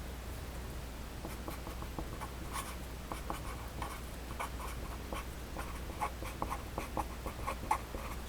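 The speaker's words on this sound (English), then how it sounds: "I'm going to write the problem out in its entirety for this one" Writing out a math problem on solving equations with radicals, with many short crisp scratchy strokes tapping along in an irregular rhythm, close and steady over a low hum, no talking.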